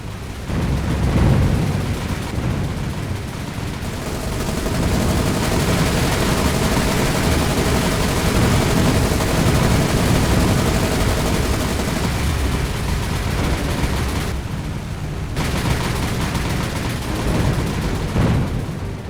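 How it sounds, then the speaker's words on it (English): An aircraft makes a strafing run on a ship in the War on the Sea naval combat video game, with loud sustained rattling gunfire and rumbling impacts forming a dense, continuous roar that briefly dips twice. "going in for a strafing run might not be the best idea there"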